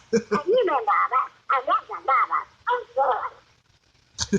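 A voice imitates a cartoon duck, delivering a quacking, nasal stream of garbled syllables in quick bursts with brief pauses.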